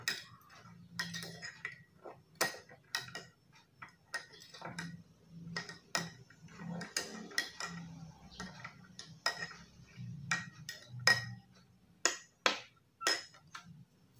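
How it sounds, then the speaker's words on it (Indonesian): Bajakah wood stirred in a glass of water gives irregular, sharp clinks and taps against the glass, fairly quiet and close, with short gaps between strikes. "Kita celupkan kayu bajakahnya ke dalam air. Oke, kita aduk."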